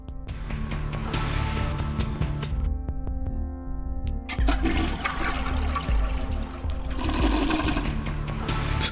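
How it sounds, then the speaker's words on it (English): Two toilet flushes from The Binding of Isaac: Repentance play back to back, the rushing gurgle of the second stacking over the first, loud and up close with no talk over it. "Double toilet flush."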